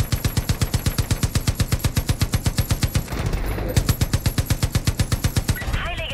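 A truck-mounted machine gun fires in Far Cry 5 in long, rapid, evenly spaced bursts, loud and close. A brief rumbling break in the middle is followed by more steady fire.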